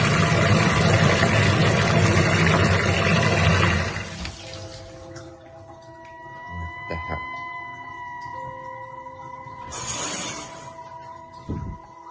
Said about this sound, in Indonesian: ia dikagetkan dengan keran air yang menyala